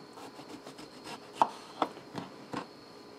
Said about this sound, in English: let's slice this one up